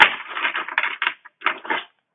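Close riffling of tarot cards being shuffled by hand, a series of rapid crisp flutters in several bursts with short gaps between, fading to silence at the end.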